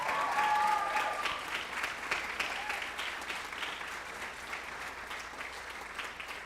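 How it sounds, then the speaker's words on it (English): Audience applause at a high school class day awards ceremony, a steady dense clapping from a large crowd that holds loud throughout and eases slightly toward the end. "Let's give her a big round of applause."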